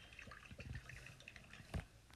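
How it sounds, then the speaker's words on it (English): Soft trickling and dripping water as a plant is watered in the Toca Boca video game, a quiet run of splashy drips with a brief louder splash near the end. "Let's just water the plant, whatever it is."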